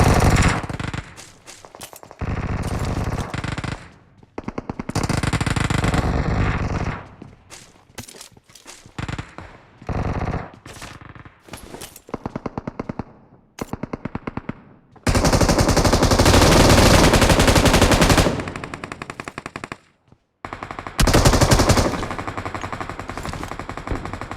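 Automatic gunfire in a solo-versus-squad battle royale video game rattles out in loud, rapid bursts, broken by short silences and several long sustained volleys.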